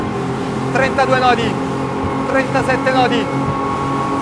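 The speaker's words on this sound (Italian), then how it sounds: "Manetta affondata, sentite la tecnologia Blast, motori rombano fuori dall'acqua" A steady, loud roar of motorboat engines at full throttle, around 5000 rpm with the boat riding high at over 26 knots, runs throughout, with someone speaking over it in short bursts.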